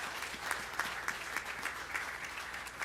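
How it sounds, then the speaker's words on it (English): A crowd at a data center groundbreaking in Illinois gives a round of applause, steady moderately distant clapping with faint rhythmic accents, heard alone without talk. "Let's give our people helping us make this happen a round of applause"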